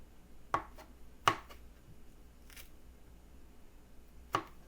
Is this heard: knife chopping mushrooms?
yes